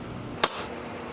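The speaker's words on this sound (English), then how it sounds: "Now I gotta punch holes like a poor person on the anvil." A hand punch is struck on an anvil while punching holes in a steel file guide for a knife build, giving one sharp, bright metallic clank that rings briefly against a quiet background.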